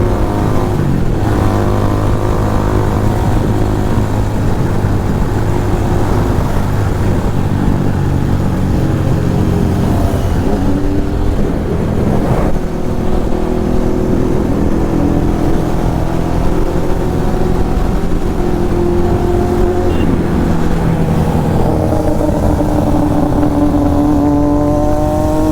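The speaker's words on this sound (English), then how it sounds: "My favorite motorcycle is gonna pass by." A Triumph Daytona 675R motorcycle makes a flyby on the street. Its engine note builds steadily into a loud, sustained roar that stays strong for a long stretch before easing off, with no talking.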